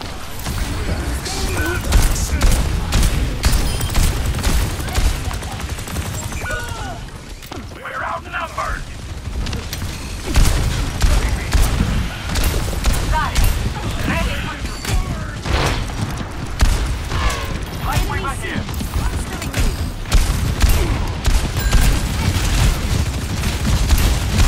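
Overwatch 2 match with continuous loud gunfire, mechanical weapon clatter and booms layered over in-game voices and effects, with a busy, dense battle mix throughout.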